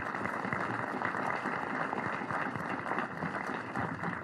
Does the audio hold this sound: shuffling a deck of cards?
no